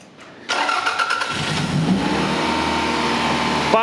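Toyota Celica sixth generation car with a two-litre engine starting on the first try: a brief cranking, then the engine catches and settles into a steady, close idle with a slight rev.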